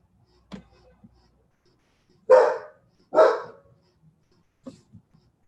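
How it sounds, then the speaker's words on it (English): A dog barks a few times at a distance, two louder barks in the middle framed by softer yips, with quiet gaps between them. "I got a dog barking"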